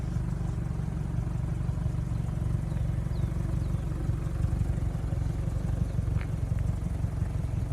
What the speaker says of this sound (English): as you hear, it's a cold start on E85